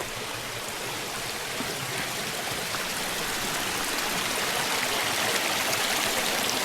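Water rushes steadily in a continuous, even flow, like a small mountain stream on Gunung Berembun heard up close, with no voices.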